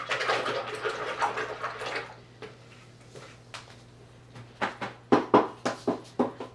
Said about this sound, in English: Wash my brush.